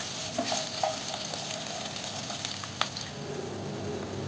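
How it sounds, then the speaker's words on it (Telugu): Peeled garlic cloves fry in a pan, making a continuous close sizzle with a few light stirring scrapes and clinks, with no one talking. "ఒక సగం వరకు వెల్లుల్లిపాయలు ఫ్రై అవ్వాలి"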